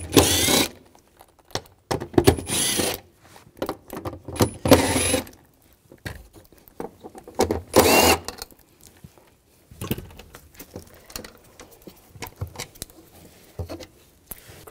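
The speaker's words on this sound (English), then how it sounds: "Take these nuts out." Socket wrench with a 10 mm socket backing cover nuts off a 2007-2013 BMW X5 3.0L inline-six during fuel pump module replacement, heard as several short close ratcheting bursts separated by pauses and quieter handling clatter.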